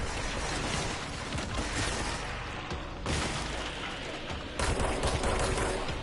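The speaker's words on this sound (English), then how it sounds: "I always shoot at the ones that are shooting at me." Dense, continuous gunfire from the action game Control, a steady wash of overlapping shots and impacts with a sharper surge near the end, loud throughout and without speech.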